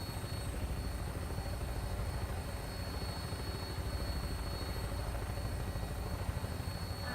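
A Fallout 76 aircraft in flight, its steady droning engine and rotor hum holding constant and fairly loud throughout with no talk over it.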